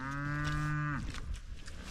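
Cattle moo loudly on a working farm, one long sustained close call lasting about a second, then fading into quieter barnyard background noise.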